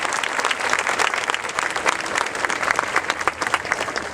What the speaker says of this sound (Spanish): Vamos a darle un aplauso fuerte.